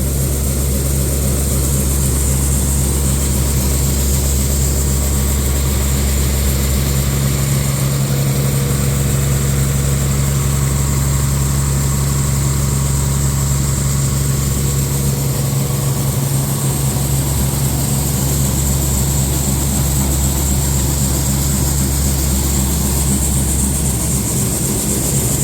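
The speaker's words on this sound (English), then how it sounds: "When it quits mixing, then there's 600 pounds of feed inside" A farm grinder mixer runs steadily while mixing cracked corn feed, a loud, continuous mechanical drone with a deep engine rumble and a constant whirring hiss that holds unchanged throughout, with no talk.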